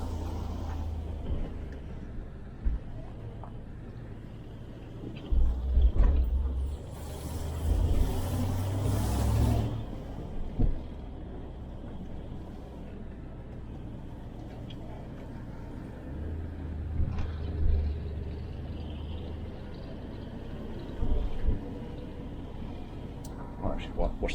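A 1971 Range Rover with a misfire rumbles at low pitch while driving, a steady engine drone rising with occasional louder revs and bumps, heard alongside people talking inside.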